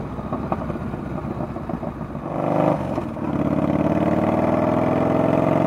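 A Yamaha Bolt motorcycle with a homemade exhaust and no baffle idles close by with a loud, lumpy burble, briefly changes note midway, then settles into a steady, rough drone.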